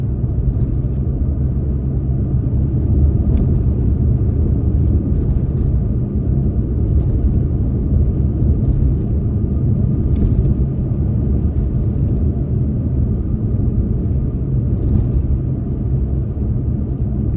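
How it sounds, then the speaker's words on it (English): Cabin noise inside a new Toyota Tacoma pickup driving over a rougher, bumpy road: a continuous low rumble of tires and road with faint intermittent knocks and rattles, no talking. "The tires, you know, the truck bouncing a little bit on the rougher road right there."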